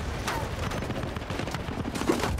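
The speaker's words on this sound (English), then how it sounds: "Oh my god, who's shooting me?" Battlefield Bad Company gunfire, a busy stream of rapid shots and bursts crackling at mid distance, steady throughout with no clear speech.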